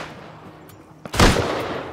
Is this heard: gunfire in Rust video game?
yes